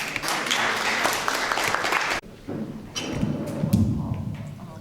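Dense applause from an audience at a National Ideals Day youth gathering in Azerbaijan, loud and steady for about two seconds, then cutting off abruptly to quieter thumps and room noise.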